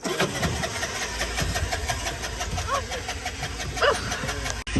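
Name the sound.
tuk-tuk engine starting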